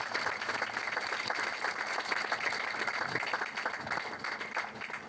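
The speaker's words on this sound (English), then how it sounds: "Big round of applause for Peter." An audience at a solar power network event claps for a speaker, a dense steady round of applause that fills the room at moderate distance without letup.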